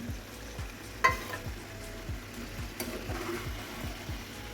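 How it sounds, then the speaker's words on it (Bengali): Curry with cucumber and tomato stir-fries in a pan, giving a steady, soft sizzle with rhythmic scraping strokes of a spoon and an occasional clack. "দুই 3 মিনিট ভালোভাবে কষিয়ে নিব।"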